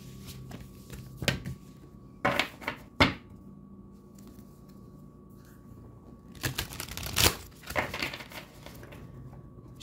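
Tarot cards are shuffled by hand in a few short bursts of riffling and flicking, close and crisp, separated by quiet pauses with a faint steady hum in the background.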